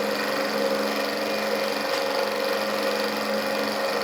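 A small Stirling engine running flat out at about 2,500 RPM gives a steady, loud mechanical whine and buzz with an even, unbroken drone and no talking.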